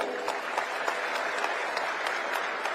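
Audience applause fills a hospital inauguration ceremony at Ludhiana Civil Hospital, a steady dense clapping from a sizable crowd that continues evenly throughout with no speech over it.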